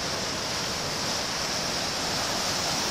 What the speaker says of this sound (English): a lot of water right here coming down through this river